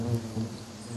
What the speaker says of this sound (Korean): 매섭게 달려드는 말벌들.